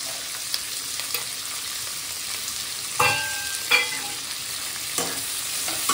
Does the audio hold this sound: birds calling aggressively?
no